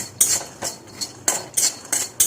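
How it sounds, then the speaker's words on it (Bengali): Dry peas and peanuts being dry-roasted in a pan, giving a run of bright rattling, scraping clatters in irregular bursts, close and fairly loud with no talking. "দেখো, এটা শুকনো কলাই বাদাম ভাজছি"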